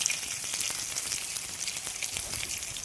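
Chicken roasts on a clay roof tile over a village fire, giving off a continuous crackling sizzle with sharp spitting pops, close and fairly quiet, with no talk.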